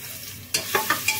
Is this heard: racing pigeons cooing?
no